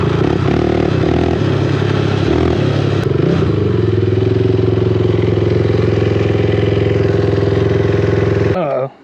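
A cheap racing four-wheeler engine revs unevenly at first, then settles into a loud, rough, steady running drone for several seconds before cutting off abruptly at the end.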